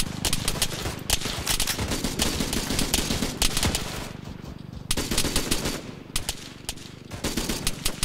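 Machine gun gunfire in Arma 3 combat at Zargabad: loud, sustained bursts of automatic fire with brief gaps between volleys, close and dominant over a busy battle mix.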